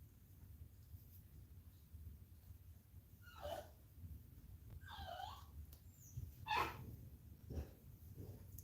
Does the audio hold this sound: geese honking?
no